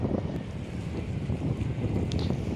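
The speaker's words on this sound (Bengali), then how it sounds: "ওই যে দেখা যাচ্ছে লঞ্চ আসতেছে, দেখি লঞ্চ আসা পর্যন্ত অপেক্ষা করি।" A passenger launch approaches on the Meghna river as a steady low rumble beneath strong wind buffeting the microphone, with faint lapping water at the riverbank and no voices.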